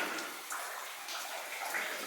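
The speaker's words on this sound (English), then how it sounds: "I hear a bunch of water dripping down." Water drips and trickles steadily in a large cleared-out chamber of an underground placer mine, a faint, hissy wash of falling drops with no talk.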